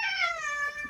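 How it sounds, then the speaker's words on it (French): A house cat named Lizzie gives one loud, clear meow that slides slowly downward, close by and alone. "j'ai entendu un miaou en bas"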